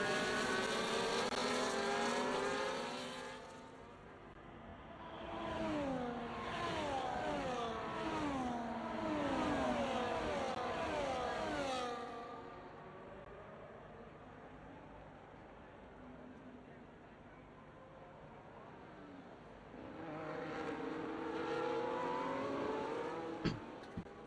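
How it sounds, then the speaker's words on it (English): Race cars at the start of a Formula-style sim racing event at Mexico, several engines revving and shifting in rising sweeps, loud at first, fading mid-clip, then another car swelling in near the end. "The race start is going all to plan."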